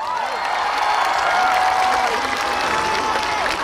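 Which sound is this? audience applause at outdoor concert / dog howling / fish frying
audience applause at outdoor concert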